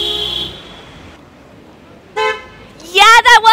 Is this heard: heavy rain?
no